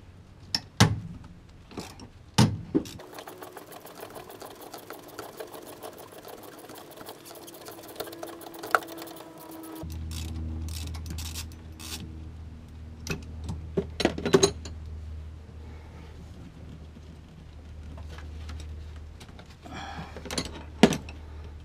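A socket wrench with an extension loosens a 13 mm nut atop the shift lever of a Mk2/Mk3 Volkswagen, heard as a sustained ratcheting whir between scattered metallic clinks and taps from tools, close and moderately loud, with no talking.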